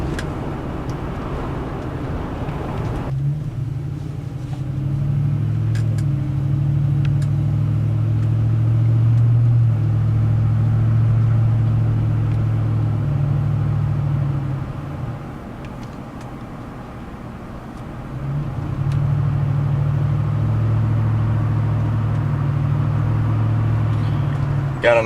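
A 2007 Ford F-150 Lariat with the 5.4L 3V Triton V8 and a new intake drives along, its low engine drone steady and loud, easing briefly before returning, with no talking over it.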